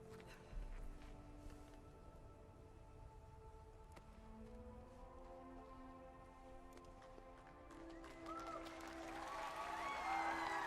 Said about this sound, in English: Oh, I love the cheering in the background.